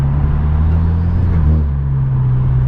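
A tuned Kia running a methanol setup drones steadily from inside the cabin, with a low, even engine hum and no clear revving peaks.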